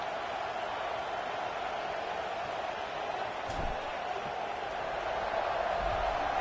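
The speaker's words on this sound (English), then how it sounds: "this crowd is buzzing after that last score" College football stadium crowd buzzing in a video game as Indiana and Penn State ready for a kickoff, a steady broad murmur of many fans with a brief low thump midway.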